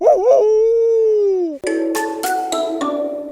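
A dog howls in a long, steady wail that bends downward, then gives way to a few short, sharp barks in quick succession, loud and close with no talking.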